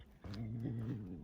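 A puppy growls close by, a low, steady rumbling growl lasting about a second, faint and alone outdoors.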